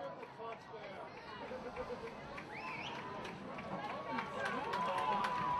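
Crowd in the stands at a Haddonfield vs. Haddon Township high school football game, a steady dense murmur of many voices that swells slightly toward the end, with no single loud cheer.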